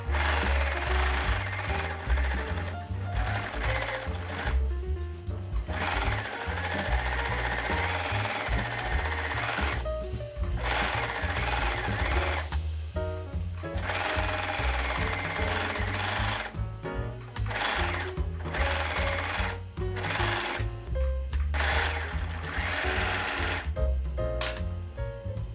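A serger runs steadily while its knife trims excess fabric and stitches the hem of a t-shirt, giving a loud, continuous mechanical whir broken by a few brief pauses and restarts.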